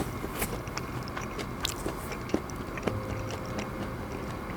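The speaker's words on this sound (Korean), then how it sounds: "야채 씹는 것처럼 아삭 소리가 나요" Crisp, close chewing of aged raw fish belly, with small crunchy bites and soft mouth sounds spread at irregular intervals over a quiet room background.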